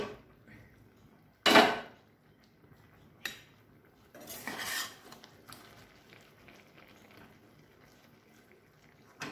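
A metal pot lid is lifted off a simmering spine gourd curry, a sharp clattering clank followed by a few softer clinks and scrapes of utensils against the pot, close up in a quiet kitchen.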